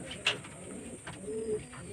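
Domestic pigeons kept at a house coo softly, with a short sharp call early on and a low drawn-out coo later, faint and close against quiet background hiss.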